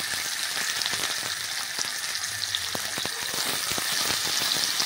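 Potatoes, capsicum and tomato fry in a pan with a steady, dense hiss of sizzling oil that stays loud and even throughout, with faint stirring ticks underneath.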